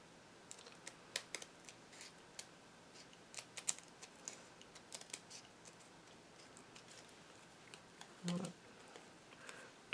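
Scissors cut through a recycled Christmas card in a series of small crisp snips, irregular and close but quiet, with a soft pause before a final louder crunch.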